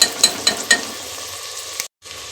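Tomatoes and mint leaves sizzle and fry in ghee in a pan, a steady loud hiss broken by a few sharp clinks of a spoon before cutting off abruptly.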